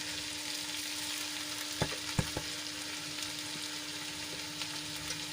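Soaked rice added to a pan and stirred together with moong beans, a faint steady frying hiss under a few soft scrapes and knocks from the spoon.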